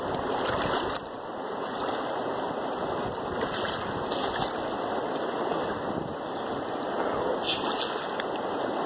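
Waves washing around a gold pan held in shallow surf, a steady rushing wash of water with gusts of wind buffeting the microphone, close and continuous with a few sharper splashes.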